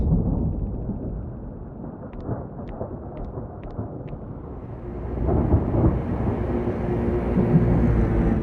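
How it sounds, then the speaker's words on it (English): Deep rolling thunder of a brewing storm rumbles continuously, growing louder in the second half, with no talk over it. "looks like a storm is brewing"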